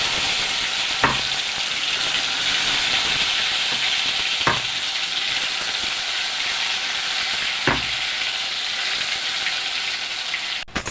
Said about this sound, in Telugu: ఇప్పుడు ఇందులో మసాలా వేసేసుకుందాం